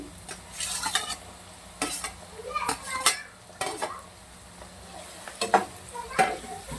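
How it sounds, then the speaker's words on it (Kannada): Onion and green chillies fry and sizzle in a pan while a spoon stirs them in repeated scraping strokes, close and steady, with clinks against the pan and no talk. "ಈರುಳ್ಳಿ ಚೆನ್ನಾಗಿ ಫ್ರೈ ಆಗಿದೆ ಈಗ ನಾನು ಅದಕ್ಕೆ ಹಸಿಮೆಣಸಿಗೆ ಹಾಕೊಳ್ತಾ ಇದ್ದೀನಿ"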